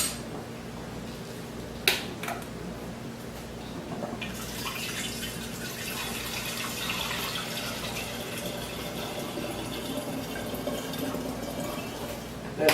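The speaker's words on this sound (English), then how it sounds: "we're going to pour some water into here" Water is poured into a container while making cherry honey wine, a soft continuous trickle and splash after a couple of brief knocks, faint and close with no talking.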